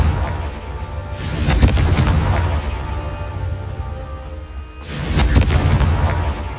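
Two booming explosions from the Confringo fire spell in Hogwarts Legacy, each a sudden broadband blast with a rumbling tail, the second landing about four seconds after the first over steady low game ambience.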